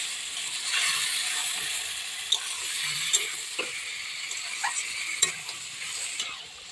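Desi chicken being stirred in hot oil while it cooks into kosha, a steady soft sizzle with scattered scraping clicks of a spoon against the pan, fairly quiet and close.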